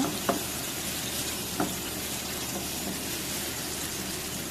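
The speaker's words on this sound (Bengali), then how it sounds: "গরম পানি দিয়ে দিলাম" Steady broadband sizzling fills the clip, with a couple of brief clinks near the start; hot water hitting a pan of frying chicken, continuous and close.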